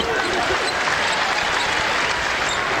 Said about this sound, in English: Standing and applauding here at the Hearn Center